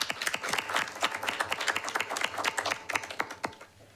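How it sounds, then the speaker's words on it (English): An audience at a council meeting claps their hands in a burst of brisk, fairly close applause that holds steady for a few seconds, then thins out and fades. "there's a lot of hand clapping tonight"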